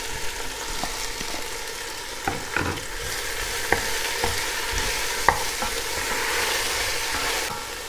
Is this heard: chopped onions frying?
yes